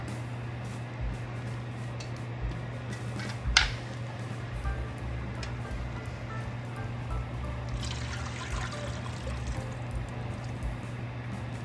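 Beef broth is poured into a pot of Irish beef stew with Guinness: a faint liquid splash and trickle over a low steady hum, with a sharper spill in the middle and a brief wash of pouring later.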